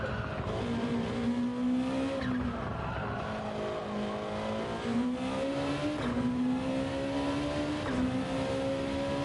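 A race car in Gran Turismo 7 endurance racing revs through shifting engine pitch, rising and falling steadily with faint tire squeal mixed in, loud and continuous with no voices over it.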